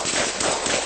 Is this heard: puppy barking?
no